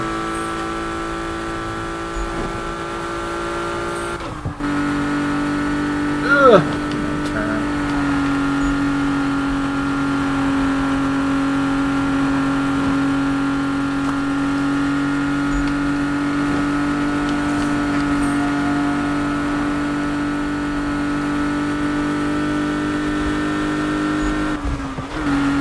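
A sustained in-game car engine drone from Need for Speed (2015), a steady mid-pitched hum holding through most of the stretch with a brief dip and a sharp blip early on, loud and without voices.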